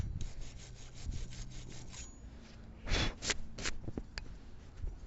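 Brake hardware being scrubbed clean by hand on a car with its rotor just removed: repeated close rasping strokes in an uneven rhythm, with a few sharper louder scrapes toward the end and no talk.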